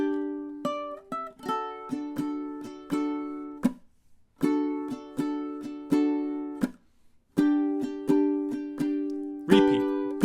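A ukulele plucks a song melody as a steady run of bright, short notes in phrases separated by brief pauses, close, clear and with no talking.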